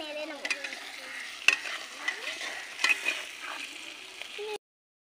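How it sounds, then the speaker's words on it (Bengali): Potatoes frying in a pan as a cook stirs them, soft continuous sizzling under irregular scraping and clinking of the spoon against the pan, close and fairly quiet, with no one talking. "নেড়ে নেব।"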